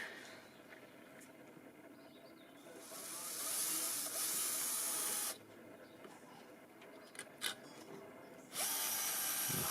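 A Bosch Professional cordless drill driver whirs in two sustained bursts driving a screw into wood, with quiet pauses between, a high buzzing drive close by, ending as a second run starts.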